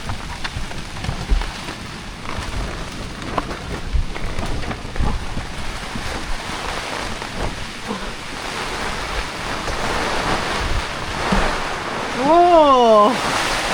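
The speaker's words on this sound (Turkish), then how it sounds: "İşte yağmur böyle birden geliyor." A sudden heavy downpour drums steadily and loudly on a boat or nearby surfaces, a dense continuous hiss with occasional thumps and a brief warbling tone near the end.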